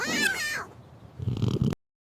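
A cat lets out a clear, drawn meow, followed by a short burst of softer rustling and muffled noise before the sound cuts off abruptly into silence.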